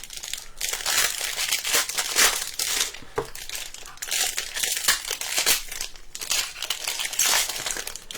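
Crinkly plastic wrappers of Donruss football card blaster packs being torn and opened, a loud, continuous crackling and crumpling close up with brief pauses, no talking.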